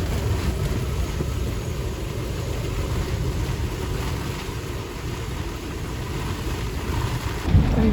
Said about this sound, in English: Another blow from the southwest.